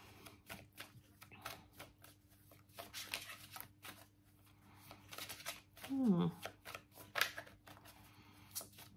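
Tarot cards riffle and slap softly in quick, irregular bursts during a quiet reading, with a dog-like yelp midway and a voice murmuring intermittently.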